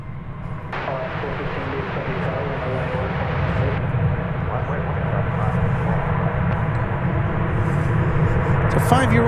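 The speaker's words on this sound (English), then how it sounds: "It's a 5-year-old Max 9." A five-year-old Boeing 737 Max 9 airliner in older livery comes in to land at DFW Airport after an hour-and-a-half flight from Denver, its engines a steady, broad roar that swells gradually with someone talking throughout.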